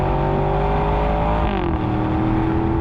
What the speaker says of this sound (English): Audi has wisely fitted this V8 with a switchable exhaust so that it can be loud or quiet